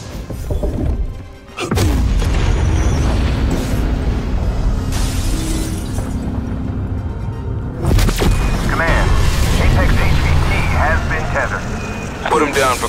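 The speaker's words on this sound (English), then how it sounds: "Locking target. Initiating firing sequence." Explosive blasts and crashing impacts from a weapon firing sequence in Call of Duty zombie mode, loud and sustained with a sharp burst near the start and another heavy hit midway, mixed with game voices and chatter.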